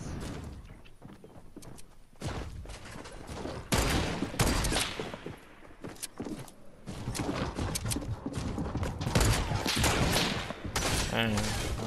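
Sniper rifle fire in a Fortnite match, sharp sporadic shots and bursts spread through a busy game soundscape, with players talking over the action.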